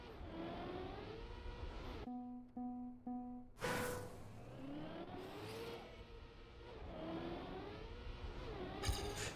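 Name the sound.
race cars driving in a racing video game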